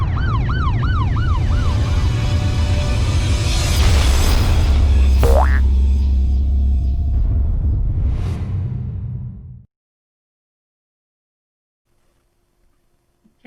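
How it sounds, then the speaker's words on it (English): A loud wailing siren rises and falls close by, sweeping up and down for several seconds before cutting off abruptly into near silence. "Yeah, I know. I recognize the siren."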